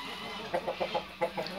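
A handsome laying hen clucks in a short run of about six evenly spaced, close clucks, with no talk over them.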